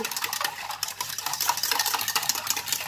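A spoon stirring a mixture of water, milk and sugar in a pot or bowl, a fast continuous clinking and scraping against the sides, close and steady with no talking.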